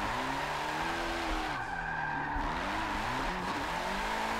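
Car tires skid and squeal in Forza Motorsport 7 as a loose, slidey car drifts, a continuous loud screech over the droning engine with shifting pitch.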